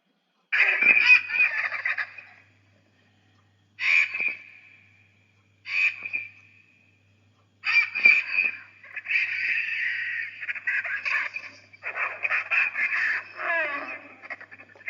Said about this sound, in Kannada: ವಲ್ಚರ್, ರಣಹದ್ದು.